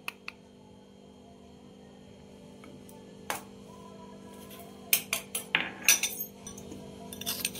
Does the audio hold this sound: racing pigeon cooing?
no